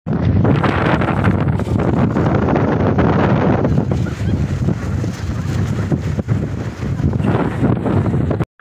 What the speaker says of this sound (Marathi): खूप मोठं वारं चालू आहे इथं